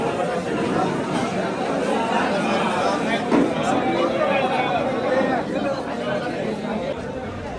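Dense crowd chatter filling a wedding hall, a steady babble of many overlapping voices close around, with a nearer voice talking over it.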